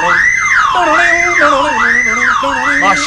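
A car alarm wails in a loud, repeating rising-and-falling siren pattern that runs through the whole stretch, with a tonal voice-like line sounding beneath it.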